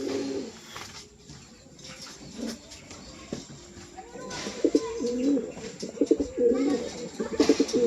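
Pigeons coo close by in soft, low, repeated throaty calls that grow denser and louder toward the end, with a person talking intermittently over them.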